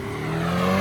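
A Hyundai Ioniq electric car plays a loud synthesized engine sound, a steady tonal hum that rises slightly in pitch and grows louder over a brief moment, heard alone without talk.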